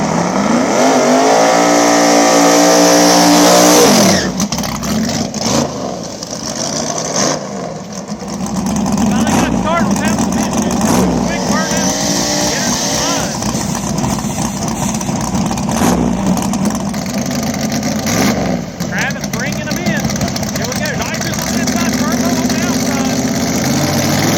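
A drag race at Mooresville's 704 Outlaws small tire event pits an LS-powered Honda S2000 against a small block nitrous box body car, with loud engines roaring and revving throughout under an announcer's voice.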